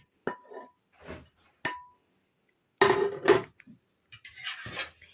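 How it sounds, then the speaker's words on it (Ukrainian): A spoon clinks and scrapes against a dish while mashed potato and fried onion filling for varenyky is stirred together: a few separate, fairly close knocks spaced apart, then a denser burst of scraping and clatter near the end. "і перемішую, щоб вся картопелька засмачена була"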